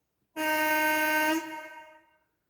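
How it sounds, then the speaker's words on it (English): A model train sound decoder plays its first air horn: one loud, steady blast lasting about a second, then a fading tail with no one talking. "So F2 is the air horn number 1."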